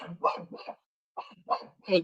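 A dog in a home barks in two quick bursts separated by a brief pause, close and fairly loud, with the barks running together in a yappy, whining way.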